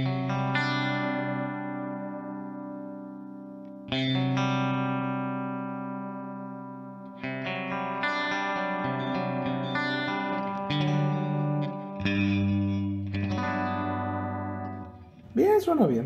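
An electric guitar runs through a Hotone Ampero Mini reverb effect, with several strummed chords ringing out into long, slowly fading reverb tails, each followed by a fresh chord, heard close with no talking.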